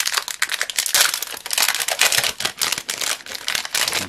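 Plastic wrappers on Magic: The Gathering booster packs crinkle and crackle continuously as they are torn open, a dense, close, busy rustling with sharp snaps throughout and no talk.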